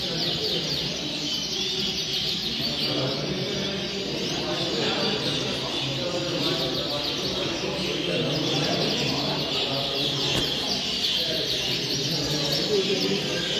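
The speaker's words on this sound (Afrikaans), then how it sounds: "Daai is 'n baie mooi geel voël." Canaries at a canary show chirp and trill continuously in a busy indoor hall, bright overlapping birdsong heard under steady crowd chatter and people talking nearby.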